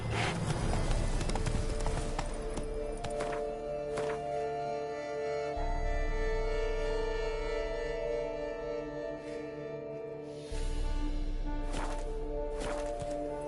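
Roach, a horse in The Witcher 3, gallops with quick steady hoofbeats under game music, the pace holding for the whole stretch with no talk.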